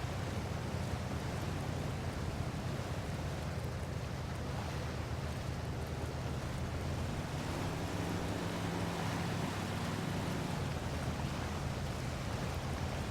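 An old-timer truck in the Mudrunner game ploughs through shallow water, a continuous loud rushing, splashing wash over a low engine rumble held at steady revs.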